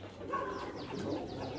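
A pigeon at a farm house near Islamabad, soft low cooing calls over a steady background hum, with faint higher bird chirps scattered through.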